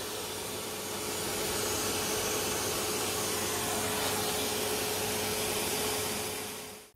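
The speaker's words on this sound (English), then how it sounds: "we've done what we can do with the vacuum cleaner" A vacuum cleaner runs steadily and loudly, a continuous broadband roar with a constant whine, cutting off at the end.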